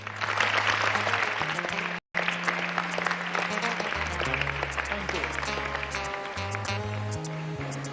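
An audience claps to welcome a lyricist onstage, while a sustained musical tone plays underneath. The applause is steady and fairly loud, broken by a brief dropout near the middle.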